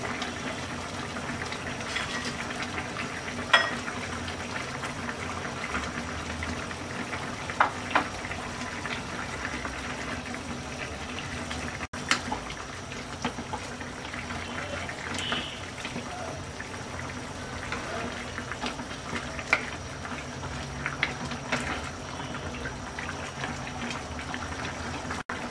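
Hilsa fish curry with fried bori, potato and brinjal simmers in a pot on a stove, giving a continuous bubbling and popping boil with scattered small splashes, close and fairly loud.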